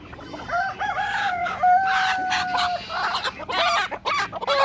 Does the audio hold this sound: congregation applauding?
no